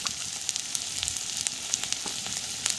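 Ground spices — chilli, turmeric, cumin and coriander powder — sizzle and fry in oil in a pan for a lentil-and-egg curry, giving a steady close crackle with small spits and pops throughout.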